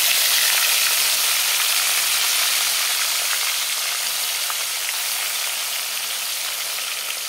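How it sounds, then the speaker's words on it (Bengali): Fish frying in hot oil in a wok, a steady loud sizzle and crackle that holds unbroken throughout, with no voices. "কড়াইতে তেল বসিয়ে দিলাম। এখন মাছগুলো দিয়ে দিই।"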